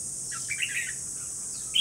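A caged red-whiskered bulbul (chào mào) sings short bright chirping phrases, moderately close, with a sharper burst at the end over a faint background hiss.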